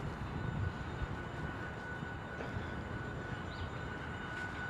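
An airplane on visual approach to runway 31, heard from a park as a faint, steady distant engine drone that holds evenly without breaks.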